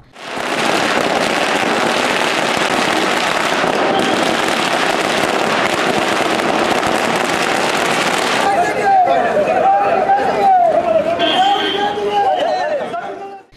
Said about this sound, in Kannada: ಕಾಂಗ್ರೆಸ್ ಪಕ್ಷದ ವತಿಯಿಂದ ಪಟಾಕಿ ಸಿಡಿಸಿ ವಿಜಯೋತ್ಸವ ಆಚರಿಸಿದ್ರು